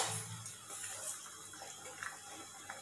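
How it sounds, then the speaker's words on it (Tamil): Water heating to a boil in a pot for semiya javvarisi payasam, a vermicelli and sago milk pudding, gives a faint, steady, watery hiss with soft bubbling throughout, and no one speaks. "நல்லா கொதி வந்துருச்சு."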